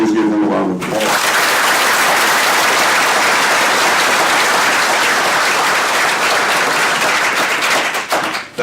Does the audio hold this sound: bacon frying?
no